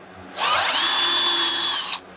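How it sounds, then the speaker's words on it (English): A power drill bores a pilot hole partway into wood, the motor spinning up sharply and holding a steady high whine for about a second and a half before cutting off, close and loud with no talk. "all I'm doing is drilling a pilot the majority of the way"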